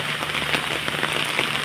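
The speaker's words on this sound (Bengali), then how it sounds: "কি পরিমাণ বাতাস, প্রচুর বাতাস।" Rain pelts down in a storm at a poultry farm, a dense, close patter on surfaces with gusting wind beneath, steady and loud throughout.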